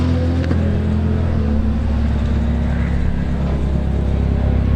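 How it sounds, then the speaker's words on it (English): A Subaru BRZ race car's engine drones loudly and steadily at a hill climb event, its pitch sinking slightly as it nears a hairpin bend. "Look at how planted the Subaru BRZ is as he approaches the hairpin."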